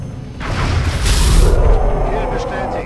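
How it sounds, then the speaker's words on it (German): A gunshot fired at an alien in the turn-based strategy game XCOM: Enemy Unknown comes as a loud booming blast that swells over about a second and then fades into a rumbling tail, with a voice talking over it. "So, und Masuda knallt den jetzt weg."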